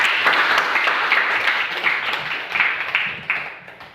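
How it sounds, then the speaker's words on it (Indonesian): A classroom of students claps together in a steady burst of applause that fills the room, loud and continuous, tapering slightly toward the end. "Sekarang kasih aplaus untuk kita semua dulu."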